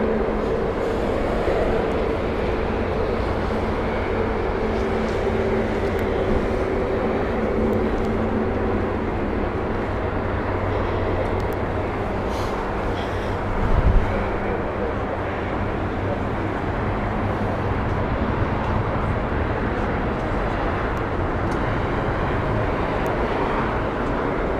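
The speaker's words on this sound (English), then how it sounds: "the Lisbon flight Airbus A320neo from British Airways" A British Airways Airbus A320neo airliner at Heathrow on the Lisbon service gives a steady, broad engine roar that holds for the whole stretch, with a brief thump near the middle and no talking.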